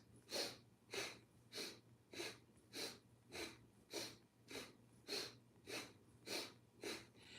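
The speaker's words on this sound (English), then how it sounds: "So nice short breaths through the nose. Inhaling and exhaling, short sniffs in and out through the nose." Rapid breath-of-fire breathing during a Kundalini yoga session, short forceful sniffs in and out through the nose in a steady even rhythm of about two per second, close and clear with no talking.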